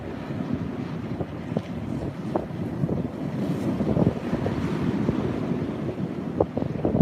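Strong 40 mph southerly wind at sea buffets the microphone during a solo shore fishing session, a steady, blustery roar with low rumbling gusts and faint surf beneath, no voices.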